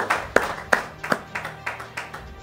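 A congregation claps in praise during a French-language church service, a run of about eight sharp claps in a slightly uneven rhythm, fairly close and loud, with murmuring voices faintly underneath.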